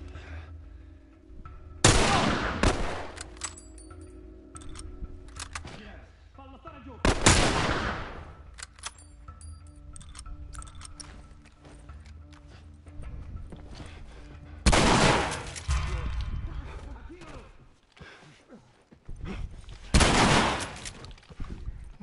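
Gunfire in The Last of Us: several loud, sharp shots and bursts ring out in separate clusters across the scene, with ambient game noise and occasional voice sounds between them.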